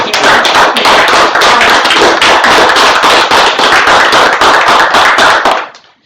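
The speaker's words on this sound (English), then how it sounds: "And our applause for the public health department." Loud, sustained applause from a public legislative meeting audience, dense rapid clapping for the county public health department, running steadily for about five seconds and then fading out.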